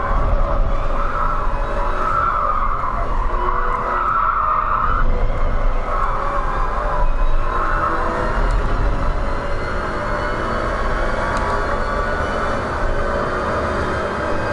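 Honda S2000 sports car lapping a track, a continuous loud engine drone with tire and road noise from inside the car, rising and easing gently in pitch through corners over the whole stretch.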